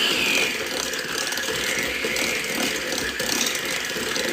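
Stand mixer whirring steadily as it mixes the vanilla-flavored cookie dough for a brookie, a constant close mechanical ratcheting drone with no talking.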